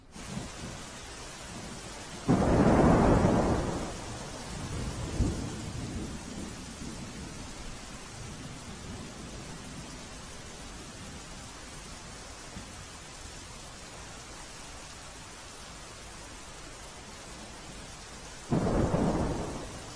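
Steady heavy rain hisses throughout in Mehsana, flooding roads, with two loud rumbling thunderclaps, one early and one near the end.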